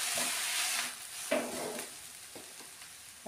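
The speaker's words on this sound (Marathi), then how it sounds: "तर हे खोबरा आपण वाटून घेतलेलं टाकून घेऊया। याला पण व्यवस्थित परतून घेऊया।" Ground coconut sautéed in a pan for a drumstick leaf bhaji, a close, steady sizzle with a few scraping stirs of the spatula, no talk.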